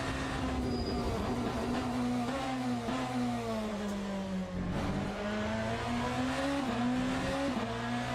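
A BMW hypercar racing in Le Mans Ultimate gives a steady engine whine that dips as the car brakes hard, then rises again as it accelerates, heard faintly and continuously without talk.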